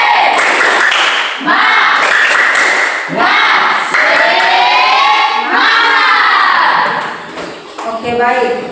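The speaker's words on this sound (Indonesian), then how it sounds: "Tepuk tangan, tepuk semangat dulu." A school class claps in rhythmic patterned bursts and cheers loudly together, near and energetic, with children's shouting voices rising between the clap sequences.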